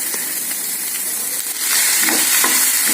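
Chopped tomato drops into a hot pan of frying capsicum and carrot, and the loud, close sizzle swells and brightens into a fiercer hiss once it lands, with no talking.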